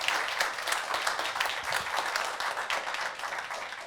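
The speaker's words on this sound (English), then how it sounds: "let's give our guests a round of applause." Audience applause for guests at a civic housing show featuring local aldermen, a dense, steady crowd of clapping hands filling the room for about four seconds without any speech.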